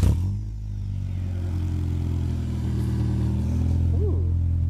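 A Honda Integra engine with a gutted catalytic converter drones with a deep exhaust tone, holding a steady rumble before a brief rev near the end, close and loud.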